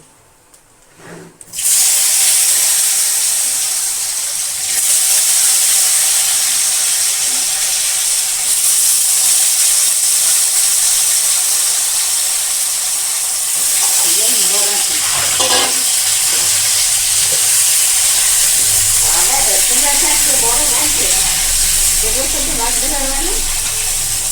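Nigella seeds tempering in hot oil produce a loud, steady frying hiss and sizzle that runs unbroken for the whole stretch, with a few light clatters near the end and no speech.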